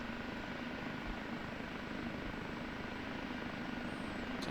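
An OH-58D Kiowa Warrior helicopter lifting off in the DCS flight simulator game: a steady, loud rotor and turbine roar that holds evenly throughout with no talk.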